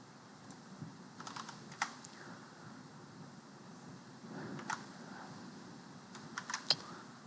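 Scattered, quiet clicks of keys being typed on a computer keyboard, in short irregular clusters over a soft steady background hiss.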